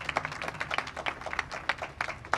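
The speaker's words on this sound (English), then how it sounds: "And then for my team, Ruth Ann Visnauskas, I want everyone to give her a huge round of applause." Audience applause at an outdoor groundbreaking ceremony for a transit-oriented housing development, a steady crowd of many hands clapping fairly faintly and at a distance, with no talk over it.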